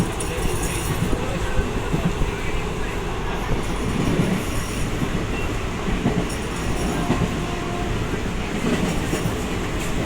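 A passenger train running on rails near Bandel station, heard from on board, gives a loud, continuous rumble with faint clacking and squealing of the wheels, and voices are indistinct in the background.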